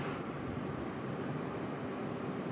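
A jet airliner rolls down the runway at Sydney Airport for takeoff, a steady, broad engine roar holding constant and loud throughout, with a thin high whine riding above the rumble.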